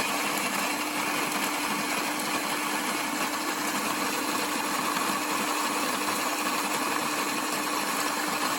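An electric coffee grinder whirs steadily on whole beans, producing a loud, even, continuous mechanical drone close by that holds without a break from start to finish.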